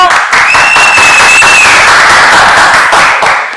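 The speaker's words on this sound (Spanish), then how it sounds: "Un aplauso." Loud studio audience applause on a Spanish-language morning television programme, a dense, steady wash of clapping across the whole stretch, with a faint tonal whine running partway through.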